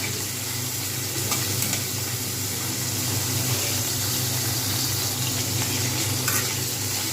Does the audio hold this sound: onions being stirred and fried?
yes